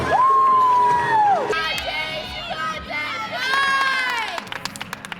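Teammates at a women's gymnastics floor event cheer and shout loudly, a crowd of high voices whooping and yelling in sustained bursts with long sung-out cries, continuous and close throughout.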